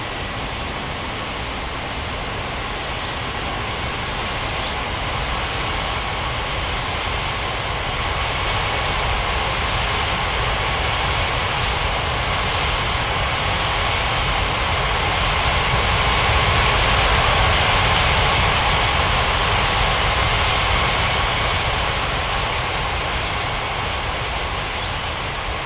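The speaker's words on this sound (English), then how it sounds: "Air France 3381 taxi to runway 35." Airliner jet engines in an air traffic control game hold a steady, loud whine and rumble as the plane taxis toward the runway, swelling slightly partway through with no pauses.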